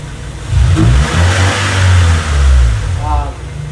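A Honda Civic D16Y8 engine, freshly rebuilt, runs steadily with low rumbling, rising in a couple of revs, while a voice talks faintly in the background.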